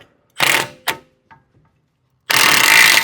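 A power tool seats a new wheel bearing on a VW Taos, heard as two short loud bursts, then a brief tap, a pause, and a longer sustained mechanical whirring burst at close range.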